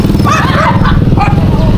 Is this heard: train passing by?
no